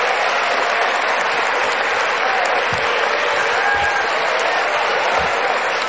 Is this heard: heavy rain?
no